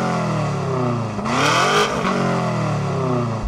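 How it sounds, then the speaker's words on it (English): New BMW M5 with a lightweight Akrapovic exhaust revving hard, the engine note climbing and falling in sweeping pitch sweeps with a sharp rasp at the peak, loud and close. "Let's check out the sound of my weight-saving Akrapovic exhaust."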